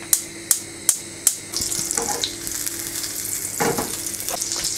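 Butter with red pepper flakes sizzles in a pan for a soup topping; four sharp taps ring out first, then a steady, close frying hiss swells with crackling spits.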